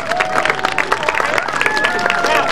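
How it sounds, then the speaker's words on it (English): Outdoor crowd applause and cheering at a Victorian gentlemen jugglers' street show in Margam Park, a steady wash of clapping with bright peaks and a sustained whistle-like tone running through it. "Big round of applause"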